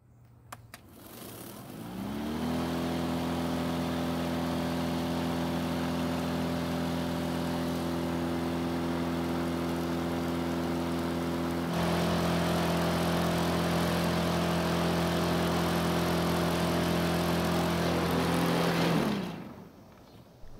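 A Dewalt cordless lawn mower runs stationary on battery power, its motor and blade whine rising in over a couple of seconds, holding a steady hum with a slight lift midway, then winding down near the end.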